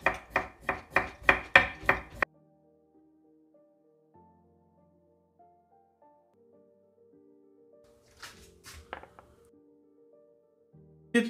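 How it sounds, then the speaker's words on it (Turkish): A knife thinly slices pickles on a cutting board, about eight quick rhythmic chops in a burst, then near silence with faint kitchen clatter later. "İnce ince kesiyoruz."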